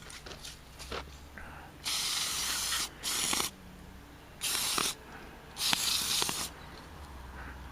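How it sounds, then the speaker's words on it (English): Carburetor cleaner sprayed onto chainsaw parts in four short, close hissing bursts of varying length, with faint handling clicks between them. "almost out of carburetor cleaner."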